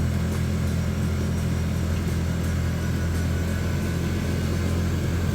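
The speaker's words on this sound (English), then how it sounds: "It was time for a UTV ride." A UTV on a trail ride makes a loud, steady engine drone with constant rumble and road noise throughout, close and continuous with no voices.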